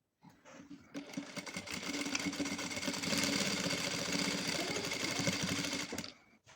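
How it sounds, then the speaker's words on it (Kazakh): Sewing machine stitching a fabric chair cover, a fast steady mechanical whirring with rapid needle ticks that starts abruptly, runs continuously for several seconds close up, then stops. "Міне мен тігін машинкаға келдім."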